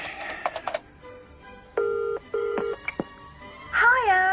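Telephone ringing and beeping in a radio comedy drama: short electronic rings and tones in bursts, then a rising warble near the end, fairly loud and with no talk over it.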